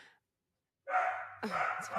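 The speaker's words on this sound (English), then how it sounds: "Sorry, my dog is going nuts." An agitated dog barks at close range after a brief quiet gap, with two sharp, loud bursts in quick succession.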